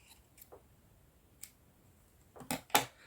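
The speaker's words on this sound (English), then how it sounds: "take scissors or something, like, and you cut both of the ends." A few soft snips of scissors close by, scattered at first and then two sharper cuts near the end, in a quiet room.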